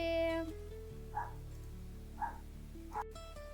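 Three short meows from a pet cat, spaced about a second apart, fairly faint, over a low steady background hum.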